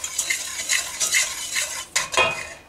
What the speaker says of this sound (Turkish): Önce şu 3 kuruyu bir karıştırıyorum.